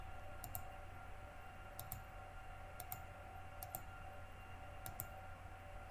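A computer mouse clicks sharply while 3D spinal brace design software is in use, about five quick double clicks spaced over steady room hum, close and faint.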